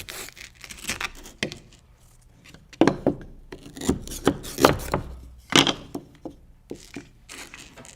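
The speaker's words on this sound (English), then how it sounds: "I'm gonna do that with this log and this saw. I'm gonna cut the log." A hand saw cuts through a log in irregular rasping strokes, close by, with uneven pauses between pushes and pulls.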